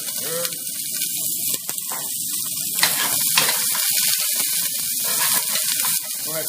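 Chopped onion hits a hot pan of olive oil and sizzles with a loud, continuous crackling hiss, close up and steady throughout, with no talk over it.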